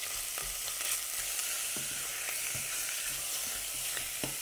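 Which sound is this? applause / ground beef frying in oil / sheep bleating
ground beef frying in oil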